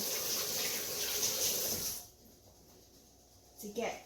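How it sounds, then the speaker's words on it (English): Tap water runs in a sink while hands are washed, a close steady hiss that stops halfway, followed by a short burst of splashing and a few spoken words. "I gotta wash my hands again"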